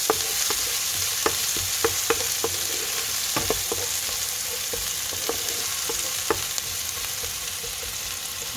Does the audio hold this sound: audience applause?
no